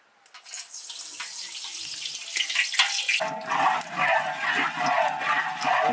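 Hot water poured out of a cooking pot in a village kitchen, a splashing stream that starts quietly and grows heavier and steadier, with some voices in the background.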